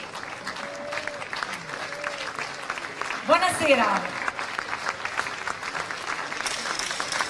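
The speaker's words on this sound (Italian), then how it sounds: "per ricevere tutti i vostri applausi." A crowd at the opening of the Friuli Doc 2022 festival in Udine applauds as a football coach and a player take the stage. A speaker's voice comes through over the steady, moderate clapping, and a brief burst of louder sound rises mid-clip.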